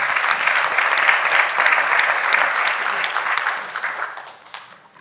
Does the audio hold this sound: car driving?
no